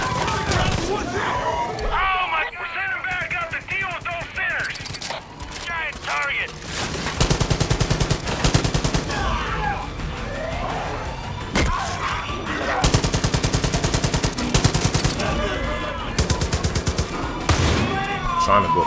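Bursts of gunfire in Far Cry 5 during a cult outpost fight, rapid automatic volleys alternating with single shots, loud and close, with game voices and commotion between the bursts.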